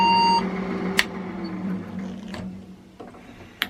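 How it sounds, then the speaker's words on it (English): A single short electronic beep from a Saturn server tower computer signalling a RAM fault at power-on, followed by a steady low fan hum with faint rattles and a couple of small clicks. "That sounds more like a RAM problem beep or something to me"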